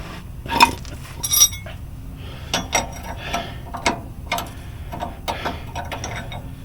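Metal clinks and ratcheting clicks come from a wrench tightening a castle nut on a power steering box, in short irregular bursts, close and moderately loud, with no talk.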